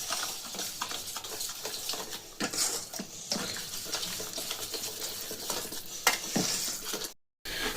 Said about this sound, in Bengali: আমি এই হুইক্সাটা দিয়ে একদম ভালো করে এটাকে ফেটিয়ে নেব